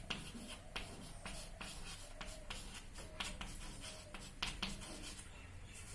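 Chalk or marker writing on a board during a geometry lesson, faint scratchy strokes in short irregular bursts with small taps and pauses, no speech over it.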